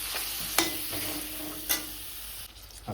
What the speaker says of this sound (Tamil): அப்படியே எண்ணெயிலே கொஞ்சம் வேகட்டும்.